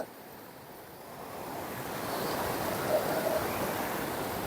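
Steady broadband rush of a flowing stream outdoors in Wayanad, Kerala, a continuous wash that swells slightly midway, with faint breezy noise and no voices.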